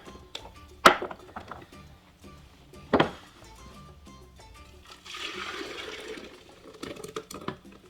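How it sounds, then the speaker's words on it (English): A couple of sharp clunks, then a rushing, splashing pour of chunky horchata into a container, running for a few seconds with scattered knocks nearby. "all we do is pour it in here"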